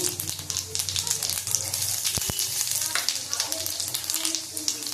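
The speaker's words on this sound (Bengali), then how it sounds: "পাঁচ ফোড়নটা ভাজা হয়ে গেছে দেখো" Panch phoron spices sizzle and crackle in hot oil, a steady close frying hiss with a couple of sharp pops midway and faint voices in the background.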